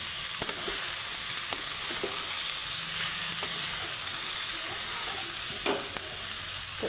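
Boiled jackfruit frying with onion, salt and turmeric in a pan, a continuous loud sizzle and hiss with scattered scraping stirs and clicks throughout, no voices.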